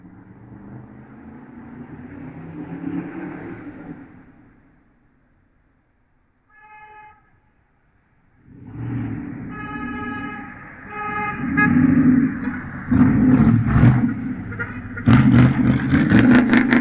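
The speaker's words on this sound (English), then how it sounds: "And it turns out it's a car and then a white Tahoe." A car and a white Tahoe rumble past close by, a low heavy roar that swells, fades to near silence with a brief tonal blip, then returns louder with rattling and clanking.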